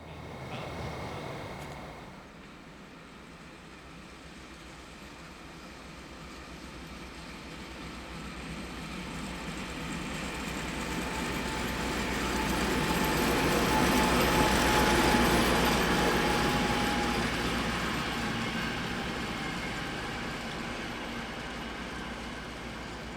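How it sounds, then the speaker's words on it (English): A Deutsche Reichsbahn Class 345 locomotive at a German station, its engine a steady continuous rumble that slowly swells louder and then eases slightly, heard alone without voices. "This Class 345 comes from a large family of similar classes of locomotive, ordered and operated by the Deutsche Reichsbahn from 1959 onwards."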